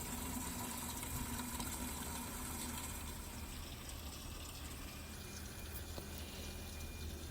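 Garden hose water steadily pouring onto summer squash plants, a soft continuous wash that stays faint and even throughout with no voices.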